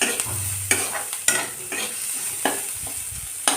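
Ridge gourd and tomato being stirred into onions frying in a pan, a steady sizzle broken by a few sharp scrapes of the spoon, close and without any talk.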